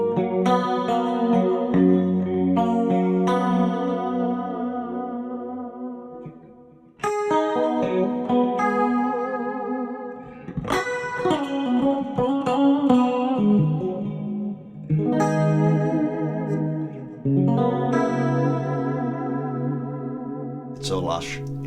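Electric guitar chords and arpeggios through a Fractal FM9 Mark II 80s-style preset, ringing out with lush chorus shimmer and reverb tails, several phrases played in succession with clear gaps between.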